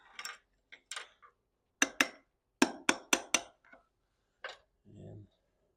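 Hammer blows ring out while working on a 1971 Honda CT70H left neglected for over 15 years, a few sharp metallic strikes in irregular bursts with short pauses, close and clear.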